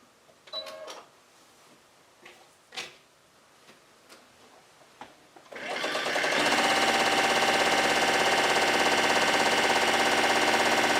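A few scattered clicks and light handling of fabric pieces give way to a sewing machine running steadily and loudly, stitching strips placed right sides together, its rapid, even whir continuing to the end without speech.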